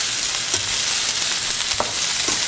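Peppers frying for ratatouille: a loud, constant sizzle in a pan with a few brief stirring scrapes, close up and with no voices.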